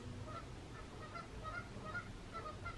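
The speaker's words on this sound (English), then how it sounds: "I hate geese so much." Geese honk repeatedly in steady nasal calls, fairly distant and soft, over a constant low background rumble.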